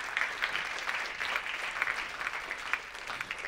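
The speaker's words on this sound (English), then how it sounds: "a round of applause." Audience applause at a community service award event, a steady wash of many hands clapping throughout, moderately soft and somewhat distant, with no talk over it.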